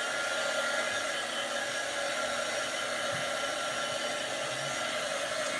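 A heat gun warming glue on MDF blows with a loud, constant hiss and whoosh that holds steady throughout, with no voices.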